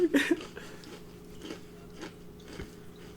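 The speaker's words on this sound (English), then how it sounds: "Don't mind him eating flaming hot Cheetos." Someone crunches Flaming Hot Cheetos close to a podcast microphone: a loud burst of crunchy bites at the start, then softer, spaced chews over a quiet, faint hum.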